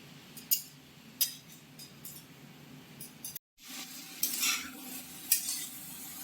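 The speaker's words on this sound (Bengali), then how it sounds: "যে রেখা আলুগুলো দিয়ে দেওয়া হচ্ছে" Potatoes fry in a pan during a home cooking session, with a soft steady sizzle under scattered spoon scrapes and clinks. Stirring grows busier toward the end after a brief gap of near silence.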